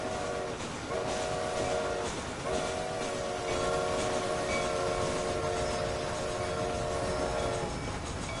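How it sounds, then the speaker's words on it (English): A train in the Red Dead Redemption video game rumbles past, its steam whistle blowing long sustained tones over a dense, steady rolling clatter, with no talking. "Oh my god, it's the train."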